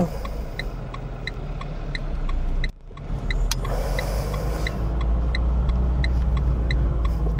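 A car pulls away in first gear at a roundabout junction, its engine a steady, close low rumble with a regular ticking pulse running throughout and a brief dip partway through.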